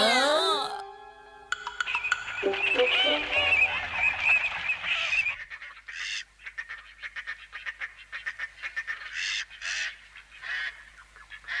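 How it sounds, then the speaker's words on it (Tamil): Honking goose-like bird calls ring out loudly at first, then continue in shorter bursts while people chatter over them. "அங்க பாத்தீங்களா, சில பறவைங்க இருக்கு."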